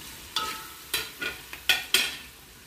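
Tomatoes fry in a pan while a spoon stirs them, giving six crisp scraping strokes at an uneven rhythm over a faint sizzle, close and fairly loud, with no talking.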